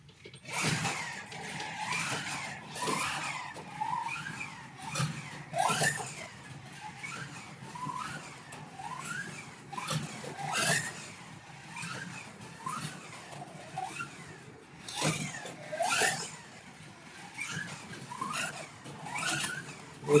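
Lancia slot car in John Player Special livery running around a slot car track, a steady whirring motor whine with repeated rising and falling surges and sharp clicks as it laps, fairly close and continuous for the whole stretch.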